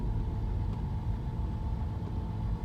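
A car engine runs during a driving lesson, giving a steady, close low rumble that stays even throughout with no speech over it.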